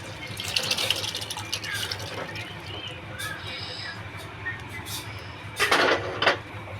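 Boiled chickpeas tipped into a pan of fully roasted masala with a little water added, giving a wet splashing, clattering burst near the end over faint kitchen background noise.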